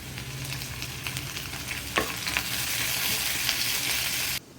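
Browned onions with grated ginger fry steadily in a pan, a close continuous sizzle with light stirring scrapes and a sharper clack near the middle, cutting off abruptly just before the end; no voices.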